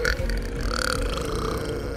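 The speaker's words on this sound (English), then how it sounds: "Oh, there was a massive dog burp." A massive dog burp in GTA 5, one long, loud, rumbling belch lasting about two seconds and standing alone without talk.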